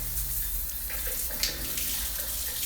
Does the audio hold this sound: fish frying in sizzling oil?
no